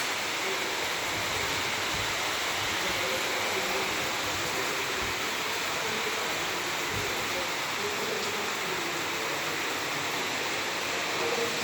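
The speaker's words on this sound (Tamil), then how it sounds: "நல்லா மழை கைஸ்." Steady, dense hiss of heavy rain pouring down, constant and even throughout with no voices.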